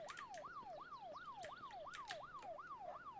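A car alarm siren in the zombie survival game VEIN wails in a steady, repeating rising sweep, about six cycles, moderately loud and without voices.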